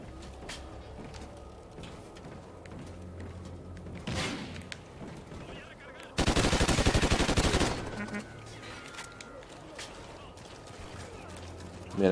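Gunfire in the first-person shooter Call of Duty: Ghosts: a dense, loud burst of automatic fire lasting about two seconds mid-clip, with a shorter shot earlier, over a steady background of game ambience.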